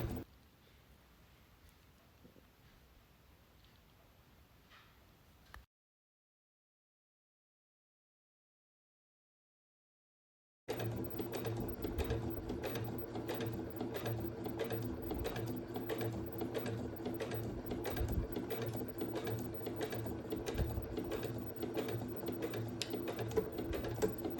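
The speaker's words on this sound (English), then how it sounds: "I'm going to sew a second line of stitching on top of or as close to that first line as I can get" A sewing machine runs at its slowest speed, stitching a second line of stitching close beside a first on the sleeve fabric of a garment, a steady close mechanical whirr after a short silent pause, with no talking.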